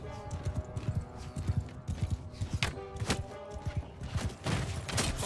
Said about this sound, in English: That was a horse, Joe.